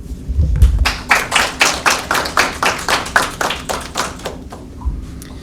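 A single person claps about a dozen times in a steady, even rhythm, close and fairly loud, with a couple of soft thumps around it.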